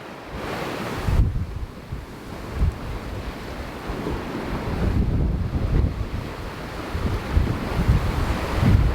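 Strong wind roars and powerful Atlantic waves surge and crash around a sailing boat, a continuous loud rush with heavier swells rising every couple of seconds.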